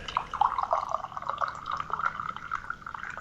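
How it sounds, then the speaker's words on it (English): Tea is poured into a cup, a steady bright trickle of liquid with small splashing variations, fairly close and heard on its own without talk. "Oh, somebody's pouring some kind of drink. I hope they're pouring a drink. Tea."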